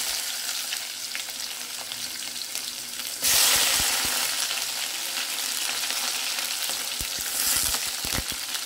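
Urad dal, moong dal, onion and green chilli fry in a pan with a steady close sizzle that suddenly grows louder as ingredients are added, followed by scraping stirs.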